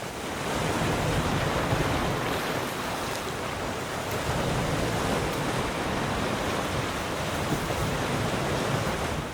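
Surf rolls steadily onto a white sand beach on Rani Island, Supiori, Papua, a continuous broadband wash of waves with a light hiss of wind and no voices.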